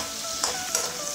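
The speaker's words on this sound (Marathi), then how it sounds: "तेलामध्ये शेंगदाणे टाकून छान खरपूस भाजून घेतले" Peanuts roasting in hot oil in a kadhai while making poha, giving a steady soft sizzle with a couple of brief louder crackles, close and alone.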